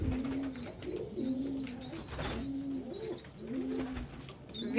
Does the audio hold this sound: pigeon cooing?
yes